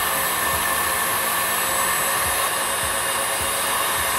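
Electric mixer whipping a vegan tiramisu mixture into foam at a raised speed, a loud continuous whirring drone with a steady motor hum, close and uninterrupted.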